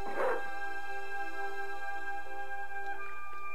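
Dog in the Broken Sword 2 dock scene giving one short bark right at the start, followed by quieter yips and whimpers over a low steady game hum.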